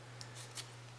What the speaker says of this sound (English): Let's cut this yarn for now.